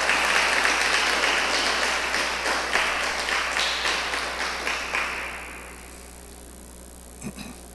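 A church congregation at a Bible class applauds, a dense wash of clapping that holds steady for several seconds and then fades away into near quiet, with a faint knock near the end.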